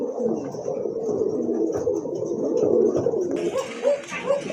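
Racer pigeons coo in low, throaty bursts close by, several overlapping calls rolling on continuously, with some rustling or background noise joining near the end.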